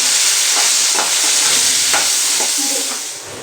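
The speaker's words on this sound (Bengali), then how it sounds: "দেখুন আমার পনিরটা ভাজা হয়ে গেছে, পনিরটা তুলে নেব।" Paneer fries in oil with a loud, close sizzle, broken by a few clinks and scrapes of stirring before it tapers off near the end.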